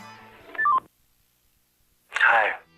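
The keypad of a Motorola Razr V3 flip phone plays a short run of clear electronic dialing beeps, then silence, then a brief loud rushing burst.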